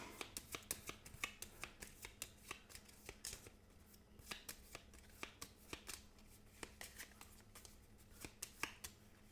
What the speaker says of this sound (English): So we shuffle these up.